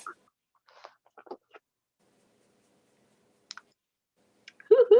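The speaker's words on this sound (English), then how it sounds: "You know how Kathy D likes to hear the magnets click" Small magnets click together in a few light, sparse taps, quiet and close, with a brief burst of louder activity at the end.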